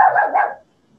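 A single short, loud dog bark, near and clear, then quick silence.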